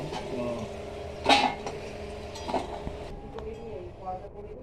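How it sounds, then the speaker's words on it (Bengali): Pots and utensils clinking in a home kitchen while an aunt cooks a pointed gourd and potato curry, a few scattered metallic knocks and clinks under ongoing talk. "কাকিমা রান্না করছে"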